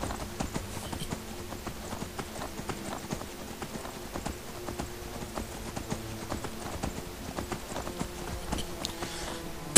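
Horse hooves clip-clop in a steady rhythm in the Skyrim video game, a brisk string of clear, close hoofbeats lasting throughout over faint background ambience, with no voices.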